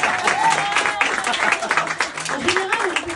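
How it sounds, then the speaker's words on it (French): Audience clapping at an open mic night in a Paris comedy club, a lively burst of applause with a voice talking over it. "on l'applaudit bien fort."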